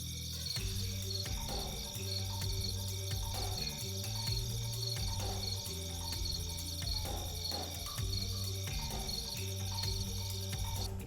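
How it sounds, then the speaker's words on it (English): A steady, shrill cricket trill runs continuously beneath soft rhythmic background music, with no voices. "Crickets chirping."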